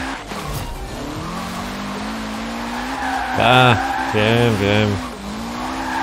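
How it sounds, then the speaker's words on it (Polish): A Mazda RX-7 with a racing Wankel rotary engine in Forza Horizon 4, a buzzy, high-pitched rotary drone that revs up sharply in several quick bursts, with a short spoken word at the start. "To RX-7 ma wyścigowy silnik Wankla."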